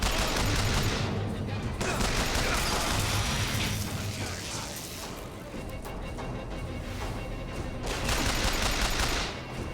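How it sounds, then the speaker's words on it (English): Enemy gunfire in Bioshock Infinite, a dense, continuous burst of shots and impacts layered with game noise, loud throughout with brief swells. "He started shooting at me."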